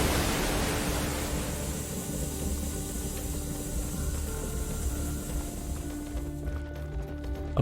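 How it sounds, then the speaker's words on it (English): A loud waterfall in the video game Tower of Time roars as a steady, broad wash of rushing water, constant and close throughout, with a few faint game sounds near the end. "It's a very loud waterfall though."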